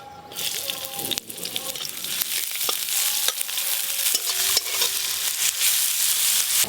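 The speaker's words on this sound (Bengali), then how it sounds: "পেঁয়াজ কুচিগুলো ভাজা ভাজা হয়ে গেছে একটু" Chopped onion and dried red chilli frying in oil in a pan, a steady close sizzle broken by occasional clicks and scrapes of a stirring spoon.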